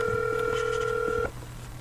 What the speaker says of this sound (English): So we got the phone ringing.